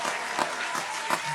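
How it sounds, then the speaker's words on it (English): Short burst of applause from an audience at a talk, a faint patter of clapping over about a second and a half. "Round of applause."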